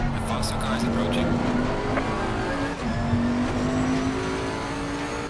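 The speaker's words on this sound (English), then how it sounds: "The faster car is approaching." A GT3 race car's engine drones steadily in a Suzuka league race in Assetto Corsa Competizione, another faster car closing in, with a voice talking over the continuous engine note.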